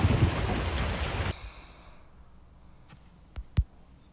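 In a storm-chasing video game, a heavy wash of rain and wind fades abruptly, leaving quiet with a couple of sharp distant cracks near the end.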